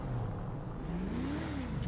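Car engine in the game FiveM (GTA V) starting up and revving, a steady loud mechanical drone whose pitch dips and then climbs through a short rev, with no talk over it.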